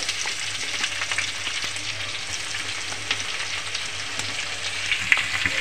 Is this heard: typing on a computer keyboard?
no